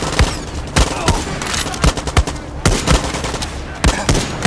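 Rapid gunfire from the video game Far Cry 6, with bursts of loud, sharp shots fired in quick irregular clusters close to the listener, with no talk over them.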